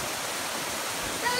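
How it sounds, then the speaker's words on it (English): Heavy rain pouring down outdoors during a vacation on Hilton Head Island, a steady dense hiss of downpour filling the short moment with no pauses, fairly close and loud. "It's raining and pouring right now."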